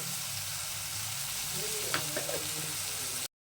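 Spice mix with salt and green chillies frying hard in oil for a vegetable dal, a steady close sizzle with faint stirring scrapes, ending in a brief cutoff.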